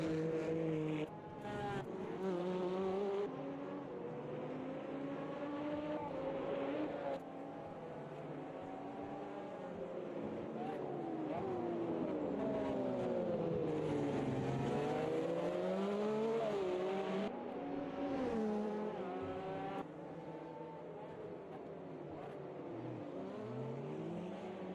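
A Porsche GT1 race car engine at Donington Park in a racing game, a loud, continuous high-revving howl rising and falling in pitch through gear changes and corners, heard steadily from onboard.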